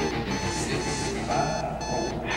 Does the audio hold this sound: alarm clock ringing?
yes